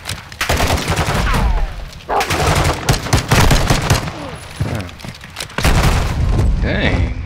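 Gunfire in the Call of Duty Modern Warfare II campaign rattles in dense, loud bursts and booms, nearly continuous with brief gaps, mixed with game sound effects.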